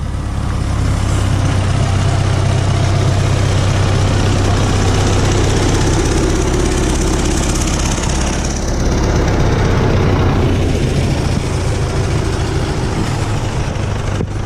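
A heavy diesel tractor engine idles nearby with a steady low rumble and knocking throb, continuous throughout without any talking.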